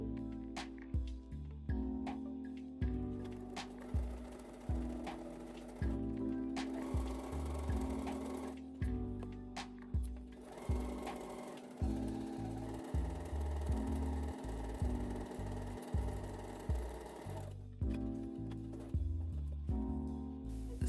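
A sewing machine stitches a narrow seam along the folded edge of an apron, running in long steady rattling stretches that start, stop and resume several times, close and fairly loud.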